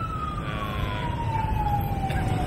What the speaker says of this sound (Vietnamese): có xe cấp cứu rồi, chúng ta dừng lại đi ha, để xe qua đi rồi mình chạy tiếp